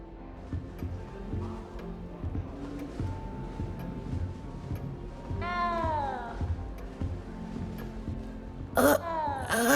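A cat in the Hogwarts Legacy video game gives a clear rising-and-falling meow midway, then a second, sharper meow near the end, heard close over a low busy game ambience.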